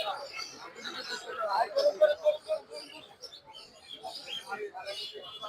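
Birds chirp and twitter at a busy bird market stocked with quail, doves, lovebirds and budgerigars, bright scattered calls mixing with someone speaking nearby and market chatter throughout.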